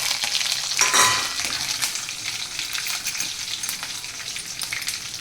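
Curry leaves hit hot oil already holding crackling mustard seeds, sesame and green chillies for a Gujarati tempering, giving a loud burst of spitting sizzle that settles into a steady, close frying hiss.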